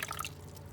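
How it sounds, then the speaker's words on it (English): Room-temperature water being added to canning jars of peas, heard as a brief, quiet dripping and trickling of liquid that fades within a second. "Add my water, and my water is room temperature."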